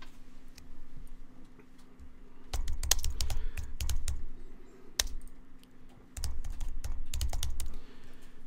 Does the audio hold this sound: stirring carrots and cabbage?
no